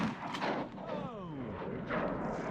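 A shotgun shot while duck hunting in snow, one booming blast near the start with a rolling echo fading after it, fairly faint overall, with some voices nearby.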